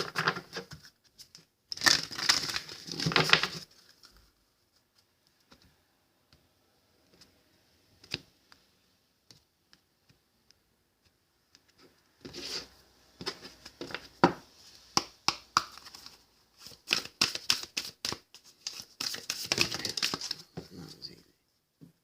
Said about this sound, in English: a couple of these decks I haven't used since I cleansed them, so I'm just giving them a really good shuffle